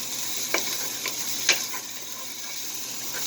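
Onions sautéing in a pan, a steady hissing sizzle with a few light taps of a utensil against the pan, close and with no voices.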